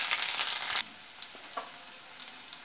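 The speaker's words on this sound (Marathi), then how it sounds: "त्यामध्ये 1 चमचा जिरे घालते, लसूण पेस्ट घालते, बारीक हिरव्या मिरचीचे बारीक तुकडे घालते" Cumin seeds, garlic paste and finely chopped green chillies hitting hot oil: a loud burst of sizzling for under a second, then a quieter steady fizz with small pops.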